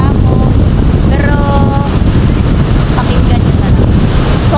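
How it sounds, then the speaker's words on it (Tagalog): Strong Typhoon Kristine wind buffets the microphone on Boracay, a loud, continuous roaring rush with faint voices nearby. "Sobrang lakas talaga ng hangin ngayon."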